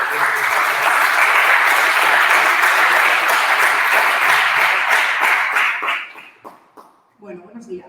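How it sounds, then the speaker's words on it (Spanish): An audience applauds the speaker Carmen at a talk on women in sport: dense, sustained clapping that holds for about six seconds, then fades out as a voice starts speaking. "Pido un fuerte aplauso para Carmen."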